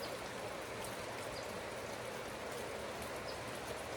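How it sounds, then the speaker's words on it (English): Steady rain during a deluge: a dense, even hiss of falling water with no breaks, fairly faint and continuous, with no talk. "I just want it to stop raining."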